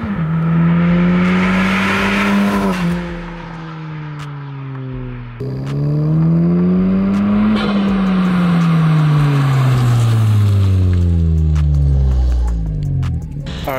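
A 10th-generation Honda Civic Si fitted with a PRL Cobra cold air intake revs loud and close, engine pitch climbing through gears, dropping at a shift, then climbing again with a throaty intake roar.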